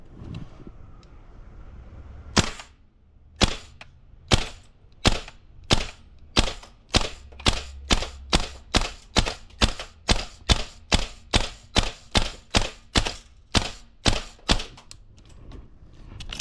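A VFC MK18 V3 gas blowback airsoft rifle fires a long string of sharp, loud, evenly spaced single shots, about twenty cracks in quick rhythm at close range, then falls silent as the magazine runs empty.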